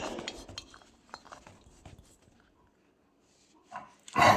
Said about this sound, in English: Let's just connect the gas to the remote